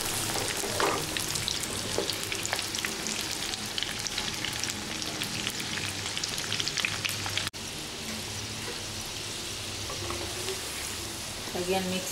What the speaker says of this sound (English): let these gooseberries fry in a medium heat for 10 minutes